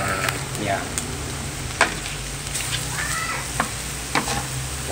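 Meat simmering in coconut milk is stirred in a pot, a steady sizzling bubble with sharp scraping clicks of the spoon at intervals, close and moderately loud, with a faint low hum beneath.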